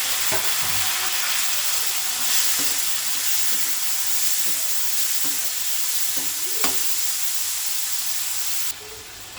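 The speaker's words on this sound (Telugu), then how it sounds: "ఫ్రై అయిన తర్వాత టమాటా ముక్కలు వేసుకున్నాం" Tomato pieces fry in a pan over ginger-garlic paste for tomato rice, a loud, steady hissing sizzle broken by occasional soft stirring scrapes, close up and with no talk.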